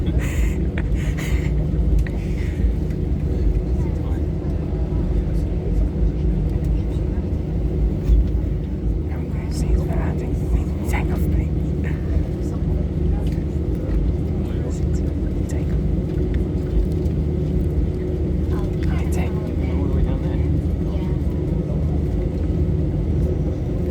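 British Airways Airbus A320 at Munich airport, a steady low cabin rumble of engines while preparing for and beginning takeoff, continuous and moderately loud, with faint voices in the background.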